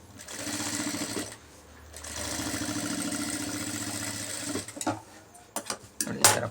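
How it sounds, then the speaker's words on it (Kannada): A sewing machine running a point stitch on a blouse lining at the neck, two sustained rapid whirring runs close by, followed by short stops and clicks of handling. "ಪಾಯಿಂಟ್ ಸ್ಟಿಚ್ ಹಾಕ್ತಾ ಇದ್ದೀನಿ."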